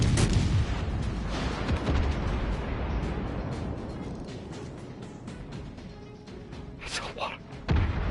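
Battleship shell fire in the naval game World of Warships, a dense, continuous rumble of heavy booms and crashing impacts rolling loud throughout, with a few sharper blasts near the end.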